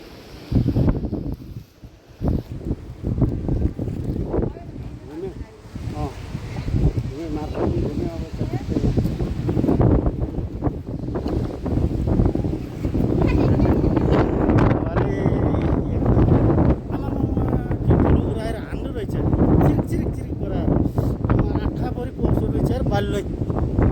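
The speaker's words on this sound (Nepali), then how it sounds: "12 बजे पछाडि हावा चल्छ भने हो रहेछ" Strong, gusty midday wind near Marpha, Nepal, buffets the microphone with a constant roaring rumble, while a person talks underneath it.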